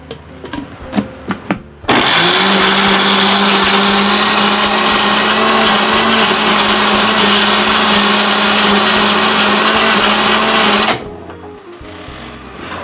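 A blender grinds red chilies and roasted candlenuts with water, starting with a few clicks and then running as a loud, steady motor whir for about nine seconds before cutting off.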